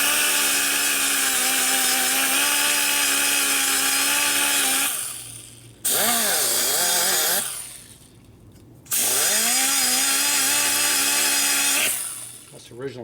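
A power tool grinds and smooths the combustion chamber of a 1200 Harley Sportster cylinder head, whining steadily at low RPM in long passes with two brief pauses where the pitch sags and wavers as it loads against the metal.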